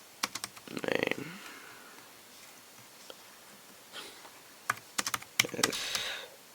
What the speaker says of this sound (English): See, I can't really type one-handed